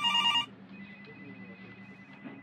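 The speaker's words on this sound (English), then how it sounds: "Your phone's been going off for like 5 minutes." An electronic telephone ring in the video game Overtime sounds loudly as a bright tonal burst, then drops to a faint lingering tone over a low hum.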